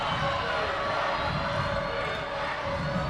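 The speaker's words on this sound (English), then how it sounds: "Crowd starting to make a little noise." A high school basketball crowd murmurs and rumbles in a gym, a steady wash of voices building slightly without distinct cheers.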